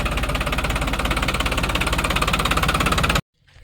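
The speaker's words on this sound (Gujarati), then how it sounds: "આ રીતના ટ્રેક્ટરનો અવાજ રહેવાનો હોય આપણે" A New Holland 3600 tractor engine idles nearby with a steady, loud, rhythmic chugging, then cuts off abruptly, leaving near silence.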